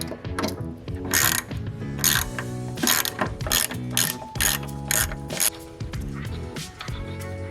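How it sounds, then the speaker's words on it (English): A hand ratchet with a deep socket clicks rapidly while backing out 12 mm bolts on a Mazdaspeed 3 coilover install, quick bursts of close, crisp pawl clicks in a steady back-and-forth rhythm. "remove the two 12 millimeter. I'm gonna use a deep socket right here."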